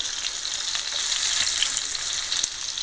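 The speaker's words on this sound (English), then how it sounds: "I put my tomatoes on the frying pan" Steady close sizzling of tomatoes frying in a hot pan, a dense hiss that continues without pause.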